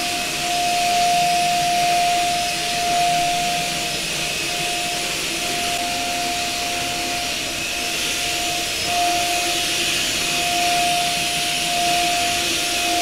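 A Proscenic P11 cordless stick vacuum cleaner runs steadily at close range, a loud continuous whining motor drone with a sharp tonal hum, unbroken throughout with no talking.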